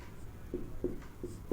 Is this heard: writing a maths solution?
yes